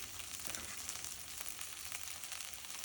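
Tomatoes for a chicken curry sizzle steadily in a pan as they are stirred, a constant close crackling hiss with soft stirring scrapes and no voices.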